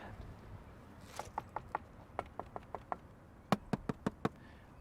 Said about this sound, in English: this is not the only piece here that has that really sturdy sound to it when you knock on it